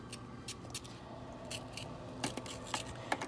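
Vegetables being cut into big pieces for an Irish potato stew: faint, close, crisp chopping strokes in an uneven rhythm, quickening toward the end, and nobody speaking.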